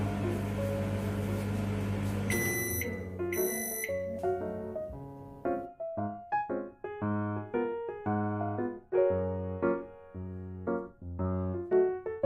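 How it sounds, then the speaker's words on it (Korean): A microwave oven heats a no-egg mug cupcake batter, giving a low steady hum and then a couple of high beeps, with melodic background music taking over afterward. "전자레인지에 1분 30초 돌려줍니다."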